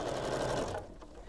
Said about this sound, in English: I'm just restitching that seam around the edge.